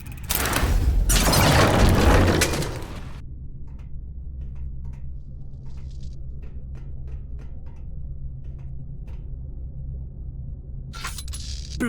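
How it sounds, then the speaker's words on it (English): Video game explosions in Verne: The Shape of Fantasy, a loud, crackling burst roaring for about three seconds, then fading to a low hum with scattered faint ticks before a short final burst. "The explosions didn't affect the room."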